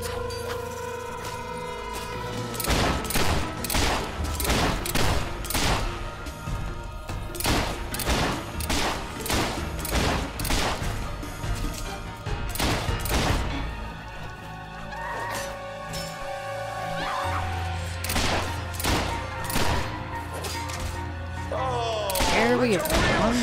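Rapid bursts of gunfire from Fable 3 crack out in dense volleys over a game soundtrack, with short pauses between clusters of shots.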